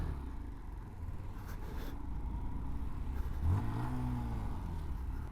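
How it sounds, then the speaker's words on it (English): A Honda Monkey motorcycle on a road ride gives a low, steady engine rumble, then a rising rev as the throttle opens near the end, heard without talk. "Ooh, opening up the Monkey."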